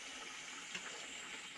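Water pressure bleeds off at an RV toilet as a steady, close hiss and rush of water flowing through the valve, continuous and fairly loud with no talking.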